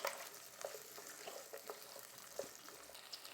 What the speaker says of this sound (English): and some garlic and ginger. Already smells so good. A good stir.